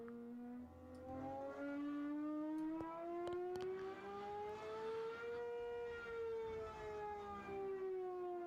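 A voice imitates a Gordon Murray Cosworth engine, a single drawn-out humming tone that rises slowly and eases back down, faint and alone.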